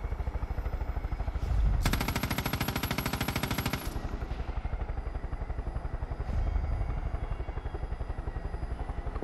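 Gunfire while shooting cultists in the game Far Cry 5: a loud burst of rapid automatic shots lasting about two seconds over a constant, pulsing engine-like drone, followed by quieter rumbling.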